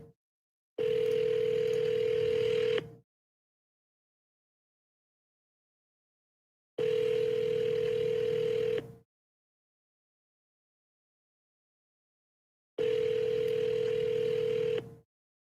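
Steady telephone dial tone heard over a speakerphone while a call is being placed, sounding in three separate bursts of about two seconds each with silent gaps between, clear and alone with no talk.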